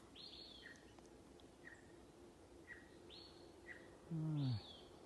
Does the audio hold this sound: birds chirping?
yes